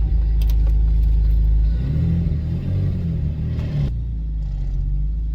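BMW 1M car engine idling in reverse, a loud, deep close-up rumble with a slight swell in revs before settling back to a steady low burble, no talking.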